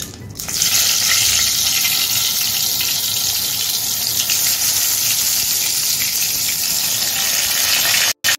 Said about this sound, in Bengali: এখন আমি বেগুনগুলো ভেজে নিচ্ছি